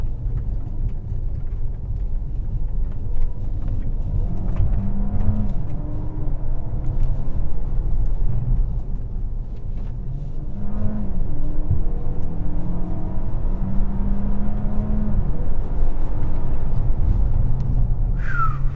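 A DS 9 E-Tense 4x4 360hp engine in sport mode revs and accelerates repeatedly, rising and falling in pitch, loud and close with steady road rumble underneath.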